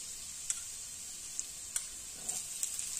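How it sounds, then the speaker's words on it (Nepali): Ginger and garlic pieces frying in a pan, a faint continuous high sizzle dotted with a few small crackles and light pops, heard alone without speech. "अब ब्राउन हुन्जेलसम्म हामीले फ्राई गर्नुपर्छ अदुवा लसुनलाई।"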